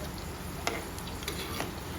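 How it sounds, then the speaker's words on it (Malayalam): Okra frying in hot oil with curry leaves makes a soft, continuous sizzle, broken by a few light stirring clicks, heard close and alone. "വെണ്ടയ്ക്ക നമുക്ക് ഇട്ട് കൊടുത്ത് ഒന്ന് ഫ്രൈ ചെയ്തെടുക്കാം"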